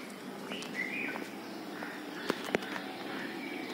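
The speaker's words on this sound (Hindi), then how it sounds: "पक्षियों की आवाज़ है," Morning birdsong outdoors: a few thin chirps and warbling calls drift over soft background ambience, with two sharp clicks near the middle and no voices.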